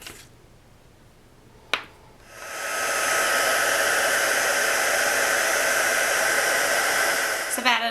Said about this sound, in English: so we will heat emboss this